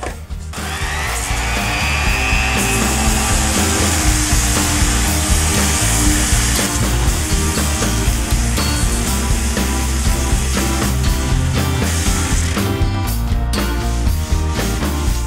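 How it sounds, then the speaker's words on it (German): A Bosch PEX 400 AE random orbital sander runs continuously and loud, a steady high whirring buzz with rough scraping as it sands, heard alone with no talk. "Dann schleifen wir mal weiter."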